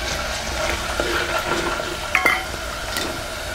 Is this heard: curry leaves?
yes